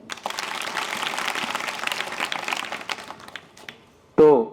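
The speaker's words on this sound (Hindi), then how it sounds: "अपने बेस्ट होने के लिए ताली बजा लीजिए" Students in a school hall applaud together in a sustained burst of scattered clapping for several seconds, fading out before a single voice speaks briefly at the end.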